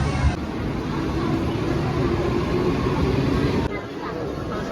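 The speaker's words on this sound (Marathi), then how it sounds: "प्लॅटफॉर्म क्रमांक एक वर आलेली लोकल विरारला जाणारी" Steady rumble of a Virar-bound Mumbai local train at platform one in Dadar station, with a busy station murmur around it and a brief drop in the noise near the end.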